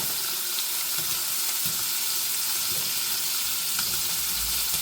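Sausage fries in a pan, a loud, continuous close sizzle with faint crackles and a low rumble near the end, no voices.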